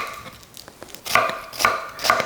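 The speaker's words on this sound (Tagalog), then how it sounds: "Hinihiwa ko lang ito ng manipis at ng pahaba." A knife slices an onion thinly on a cutting board, soft taps at first, then three louder crisp chops at a steady pace, close up with no talk.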